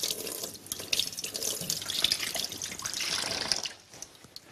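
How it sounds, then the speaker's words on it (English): A kitchen tap runs into a sink while fish is rinsed under it, giving a close, fluctuating splash and drip of water that fades toward the end, with no speech. "so I'm going to take that to the sink and give it a good rinse to make sure there's no trace of blood left."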